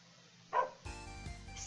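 A dog gives a short, faint bark, followed by a louder burst of mixed household or game noise.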